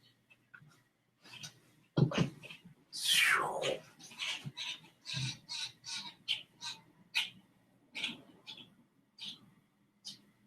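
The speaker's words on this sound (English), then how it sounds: "Bunch of birds just landing at my window." Crows land at a window and peck at it, giving a sharp thump followed by a run of short, irregular taps and scratchy bird calls, close by and moderately loud.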